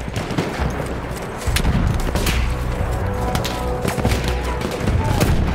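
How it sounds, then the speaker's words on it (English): Battlefield 1 gunfire: a dense, loud fusillade of rapid shots and distant booms that continues without a break through a team deathmatch battle. "Bullets everywhere."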